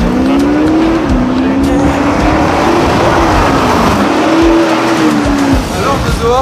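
Audi SQ5 with a strong engine, revving loudly and close, a steady roar with a deep tone that climbs and falls as the throttle rises and eases, with a voice speaking under it.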